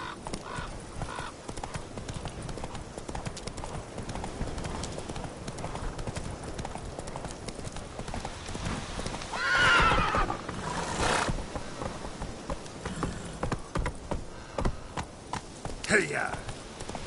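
Geralt's horse Roach in a video game, hooves clip-clopping in a rapid rhythmic gallop that runs throughout, with a loud neigh midway and another near the end, mixed with speech.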